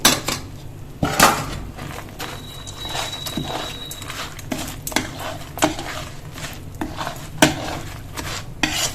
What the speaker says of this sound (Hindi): इसी तरह से हमको सबको अच्छी तरह से मिला लेना है